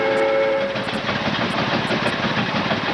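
Advance steam engine running under load on a dynamometer at about 220 RPM, a steady, loud mechanical rumble and chuffing churn that fills the whole stretch without any talk.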